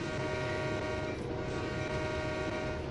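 A GP9 diesel locomotive rumbles steadily in Train Sim World 3 on the CN Oakville Subdivision, its engine drone loud and continuous with a sustained horn-like tone layered on top.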